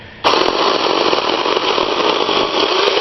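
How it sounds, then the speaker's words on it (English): A small battery-powered mini chainsaw with a 6-inch blade starts up abruptly and whines loudly as it cuts steadily through wood, staying near and constant until the end. "This is a mini chainsaw with a 6-inch blade"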